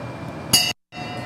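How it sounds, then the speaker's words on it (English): A brass bell struck once, a bright ringing clang that sounds briefly before cutting off abruptly, alone without talk. "every time we do something fantastic, we're going to ring the bell."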